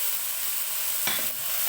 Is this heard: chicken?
yes